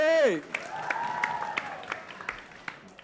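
Light audience clapping at a televised quiz competition, a handful of scattered claps that trail off after a short musical tone, with a voice briefly heard at the start.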